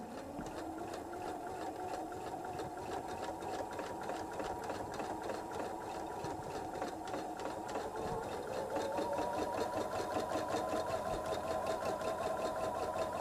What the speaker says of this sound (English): make sure your piece doesn't turn while you're sewing it